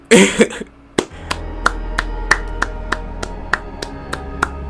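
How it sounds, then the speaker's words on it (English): Hands clap in a steady, regular rhythm, about a dozen crisp claps close by, following a brief burst of other noise at the start. "I'm over here clapping."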